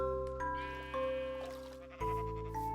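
Sheep bleating in the Minecraft video game, a couple of short wavering baas over steady game background music and tones, fairly close and clear.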